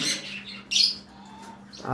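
Pet birds offered at a sale give a few short, bright chirps and squawks, with one louder burst in the middle and quieter calls around it. No voices are heard.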